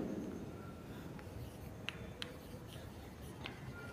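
Pen or marker writing on a surface during a Class 12 English lesson on notice writing, a soft continuous scratching with a few small taps, faint and close, with no talking.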